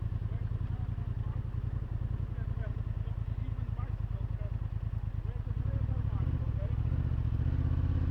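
Honda XL750 Transalp motorcycle engine running steadily while riding, a loud low throbbing drone that grows slightly heavier toward the end.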